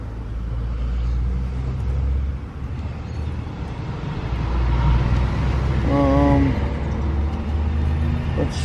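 The Stranger Ranger truck's engine runs during a test run, a steady low rumble that swells a little midway, with brief voices and a short whining tone heard over it.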